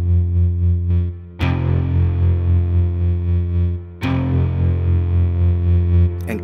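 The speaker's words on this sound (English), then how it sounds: "really turning this into some kind of a freaky electric guitar sound" A rubber bridge guitar sample processed with tremolo, EQ, compression, amp and cabinet simulation rings out as two distorted, sustained chords with sharp attacks, each pulsing steadily as it decays, with a brief pick scrape at the end.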